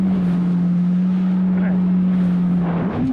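Jet ski engine droning on the ride home after fishing, a steady loud hum with wind rush over the microphone, continuous throughout with a slight pitch rise at the end.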